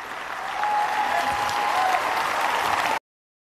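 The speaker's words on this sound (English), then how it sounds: "Ladies and gentlemen, tonight's heroes, give them a round of applause." Audience applause honoring the evening's heroes at a religious liberty event, steady and full for about three seconds, then cut off abruptly into silence.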